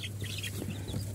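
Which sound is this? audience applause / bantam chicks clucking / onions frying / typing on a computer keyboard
bantam chicks clucking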